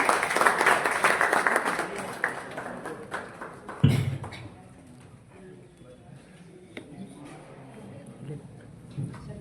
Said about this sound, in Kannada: ಅವರನ್ನು ಕೂಡ ವೇದಿಕೆಯ ಮೇಲೆ ತಮ್ಮ ಚಪ್ಪಾಳೆಯೊಂದಿಗೆ ಬರಮಾಡಿಕೊಳ್ಳೋಣ